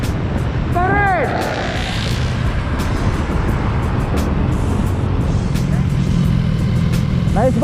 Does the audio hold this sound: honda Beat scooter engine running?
yes